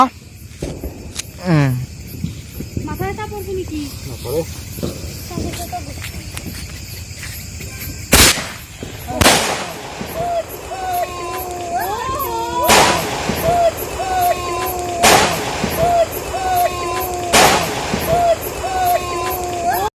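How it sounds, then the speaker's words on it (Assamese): Diwali sky-bomb firecrackers burst in a series of sharp, loud bangs spaced a few seconds apart, mixed with whistling tones, crickets and people talking nearby. "আকাশী বোমা ন"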